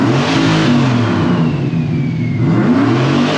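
A turbocharged engine in a mini Ford F150 truck revs hard toward its 6,800 rpm rev limiter, a loud, sustained roar with rising and falling pitch held close up, with no talking.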